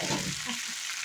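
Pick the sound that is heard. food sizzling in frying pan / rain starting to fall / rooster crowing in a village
food sizzling in frying pan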